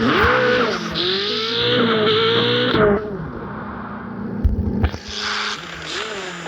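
Cars race in a modded video game, engines whining and revving in rising and falling tones with a tire squeal, a short pause, then revving again, loud and close.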